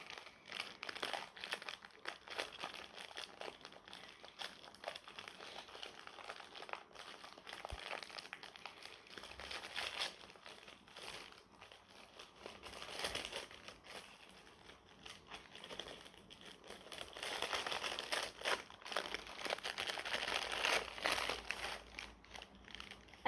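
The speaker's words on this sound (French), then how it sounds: "Ensuite, on va ouvrir le petit paquet de Christelle." A small gift package is unwrapped slowly, its paper crinkling and rustling in soft, irregular bursts close by, quiet throughout with no voices.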